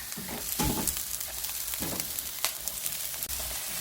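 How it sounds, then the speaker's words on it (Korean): Anchovies stir-frying in a pan with shishito peppers being added, a steady broadband sizzle with scattered crackles and a few louder stirring scrapes, close and continuous with no talking. "자 이렇게 멸치가 볶아졌으면 꽈리고추를 넣어주겠습니다."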